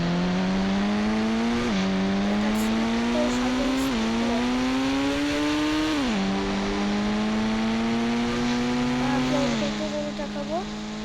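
Car engine in the mobile game Indian Bike 3D revving steadily with rising and falling pitch as it shifts, a loud continuous drone heard on its own for about eleven seconds.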